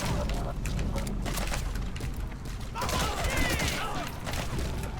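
Unsuppressed gunfire in the Metal Gear Solid V video game, a dense continuous barrage of rapid shots and booms with mechanical clanks, loud and sustained across the whole stretch.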